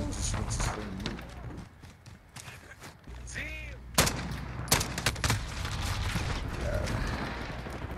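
Single-fire weapon shots from the video game Modern Warfare, with sharp, loud bursts arriving in a few quick clusters while someone talks over them.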